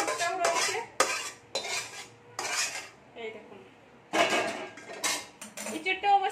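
A utensil stirs a potato and young jackfruit curry in a pot, with close, loud metallic clanks and scrapes coming in bursts separated by brief pauses.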